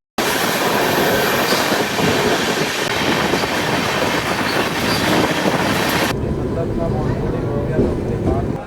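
The Sealdah Humsafar Express runs along the tracks with a loud, continuous rumble and rattle of wheels and carriages heard from inside, and the sound suddenly drops to a muffled, quieter interior hum near the end.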